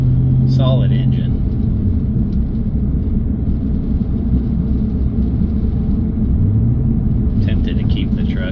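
A 2005 Toyota Tundra Limited 4x4 pickup with a suspected drive shaft or carrier bearing problem idles in a steady, close, low rumble, with someone talking briefly near the start and again near the end.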